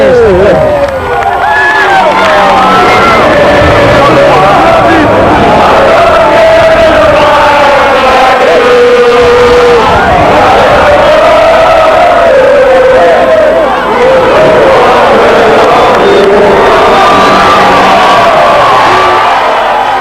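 Huge football crowd of Port Vale supporters in Burslem, a loud, continuous roar of cheering, chanting and bellowing voices with rising swells, close and dense throughout the long stretch.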